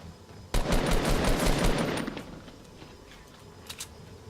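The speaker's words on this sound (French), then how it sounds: "Qui me tire dessus?" Rapid automatic gunfire bursts out in the video game Fortnite, a loud stream of close shots lasting about a second and a half that then trails off, with a couple of faint distant shots afterward.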